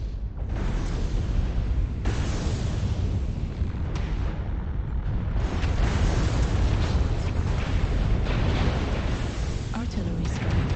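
An artillery strike pounds the battlefield in the MechWarrior Online mech game, producing heavy, overlapping explosive rumbles that stay loud throughout, with a few sharper blasts cutting through.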